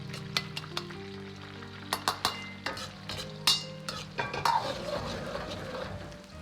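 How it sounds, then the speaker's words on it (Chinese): Shredded pork stir-fried in oil in a wok and quickly pushed apart, with a constant sizzle under repeated sharp spatula clinks and scrapes against the metal, close and busy. "下锅后快速推散，滑至大概30秒钟"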